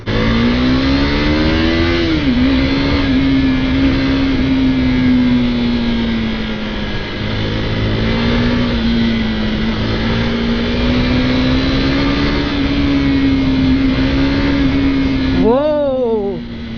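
A modified KTM RC 390 motorcycle fitted with crash guards and wheel covers runs steadily under load, its engine droning with gentle pitch rises and falls before a quick rev near the end, with the rider talking over it.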